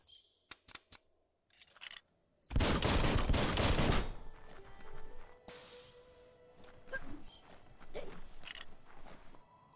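Gunfire in the video game Biomutant: a few sharp clicks, then a dense loud burst of rapid shots lasting over a second, followed by whooshes, a spray-like hiss and scattered game effects.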